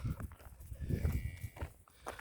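A cow moos on a farm field beside the Wales Coast Path between St. Brides Wentlooge and Peterstone, giving low, drawn-out lowing calls at close range with a quieter pause between them.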